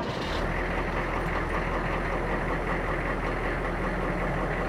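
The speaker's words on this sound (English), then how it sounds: "I'm gonna turn the key. It's a diesel motor" A 1986 AMG Humvee H1 diesel engine runs at a steady, loud, close idle with a deep rumbling drone that holds evenly throughout.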